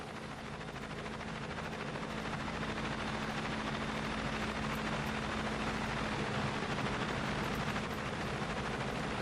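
A pair of evacuation helicopters in the video game Cepheus Protocol, heard as a steady, dense rotor drone that holds at an even level throughout, with no talk.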